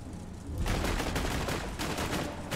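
Continuous rapid gunfire from Borderlands 2, loud and dense, starting abruptly and running on as a sustained fusillade.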